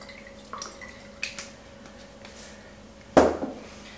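Tabasco and Worcestershire sauce shaken from bottles into a smoked wahoo fish dip, a few faint drips and taps scattered across a quiet kitchen, ending in one sharper, louder splat.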